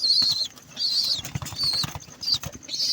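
Hungry pigeons coo and flap their wings close by, soft fluttering bursts and low murmuring calls repeating over a few seconds, alongside high chirps from other birds.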